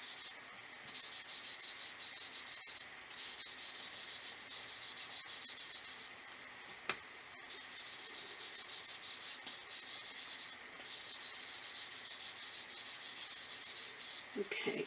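A red colored pencil rubbing back and forth across paper on a birthday card drawing: steady, close scratchy strokes in long sweeping passes with short pauses between them, no talking.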